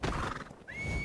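A horse in the video game ARK lets out a short, loud whinny close by, with hoof clatter beneath and no talk.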